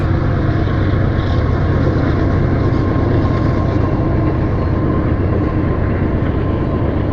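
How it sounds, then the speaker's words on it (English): A loud, steady rumbling roar of a heavy train passing close by a fishing spot in Goshen, Indiana, with constant low-end noise and no breaks. "It's a loud train."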